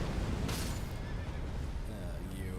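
A horse in the Elden Ring video game gives a loud, clear whinny as it is mounted. The call rises and then trails off over a low, rumbling game background.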